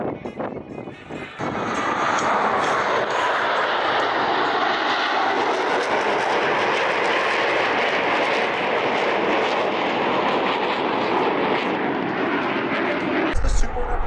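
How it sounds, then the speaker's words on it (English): A diamond formation of military jets flies a low break cross at the Barksdale AFB airshow, a loud sustained roar that swells and holds for over ten seconds while an announcer talks over it. "Commander Armitage is rolling out the Diamond formation for another dynamic maneuver, the Lowe brake cross."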